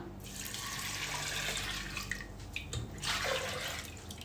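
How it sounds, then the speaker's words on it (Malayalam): Water pours steadily into a cooking pot for chickpea and lentil payasam, giving a continuous near splashing gush that swells toward the end, with no talking. "വെള്ളം ഒഴിച്ചു കൊടുക്കുക."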